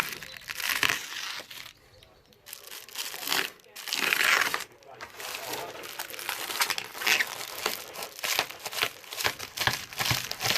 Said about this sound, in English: now I'm going to just use a blade, Stanley blade. Just cut.